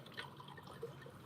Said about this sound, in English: The sound of whiskey pouring into a glass.